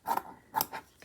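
Scissors snip through a round paper doily in a couple of quick, close cuts, crisp and fairly loud with short pauses between them.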